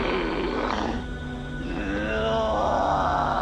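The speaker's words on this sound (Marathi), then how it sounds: "त्या विचित्र आवाजात एखाद्या हिंसक प्राण्याप्रमाणे गुरगुरत होत्या" A voice growls like a violent animal in a Marathi horror story, a continuous low guttural roar-like snarl lasting the whole stretch, loud and close, rising again toward the end.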